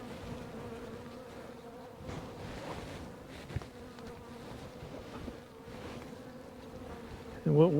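Honeybees hum and buzz steadily inside a weak hive being prepared for winter, a dense, continuous drone heard close up with no talking.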